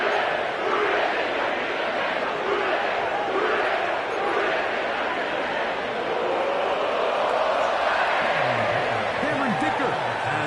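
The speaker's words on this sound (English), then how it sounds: "sellout crowd has arrived at Acor Stadium in Cincinnati" Sellout stadium crowd roaring in an EA Sports football video game at a Cincinnati Bengals home game in snow, a broad continuous crowd din with a commentator's voice talking over it.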